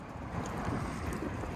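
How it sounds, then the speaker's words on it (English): Strong wind buffets the microphone at Bolsa Chica wetlands beside choppy water, making a loud, continuous roar and rumble with no talking. "It's really windy here."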